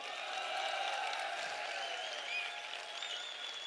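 An audience at a company product presentation applauds, a faint, distant, continuous wash of many clapping hands that stays fairly even for several seconds with no voices over it.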